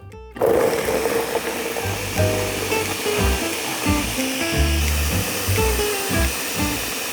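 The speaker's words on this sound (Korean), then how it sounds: "이 믹서기 소리가 좀 큰데 그래도 조금만 놀라지 마시고 갈아 볼게요" A blender starts abruptly and grinds almonds into flour loudly, its motor whirring and pitch shifting as the contents churn, continuous for several seconds.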